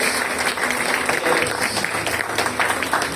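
A church congregation gives a short burst of welcoming applause during a Spanish-language service, dense, steady clapping from many hands filling the room.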